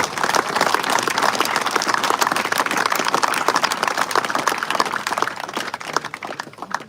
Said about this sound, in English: Big round of applause for Luke.